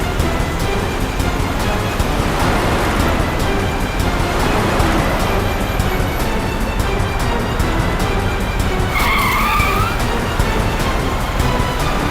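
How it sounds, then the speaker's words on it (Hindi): A car driven recklessly in a TV crime drama scene: loud, dense road noise and engine roar fill the scene, and a short tyre screech cuts through near the end, with no one speaking. "इस तरह से गाड़ी चला रहा है कहीं किसी को नुकसान ना पहुंचा दे।"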